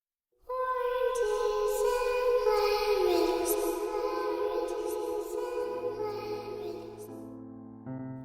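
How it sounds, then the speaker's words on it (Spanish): A faint, eerie chant from the opening of the film It, sustained singing tones in a hollow, distant space that drift lower partway through, with no talking over it. "se nos quedó grabado en la cabeza el canto de los niños del inicio"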